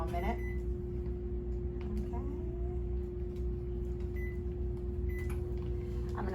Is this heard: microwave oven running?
yes